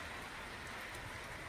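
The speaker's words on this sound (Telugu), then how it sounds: "వర్షం పడుతుంది ఫ్రెండ్స్" Rain falls steadily in a constant, even hiss of drops on surfaces, with no voices over it.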